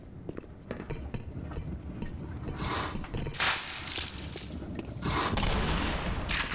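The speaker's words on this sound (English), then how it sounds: "This is a job for the shotgun." Shotgun blasts in the video game Black Mesa, several loud broadband bursts going off over a busy combat soundscape, with the heaviest volleys landing in the second half.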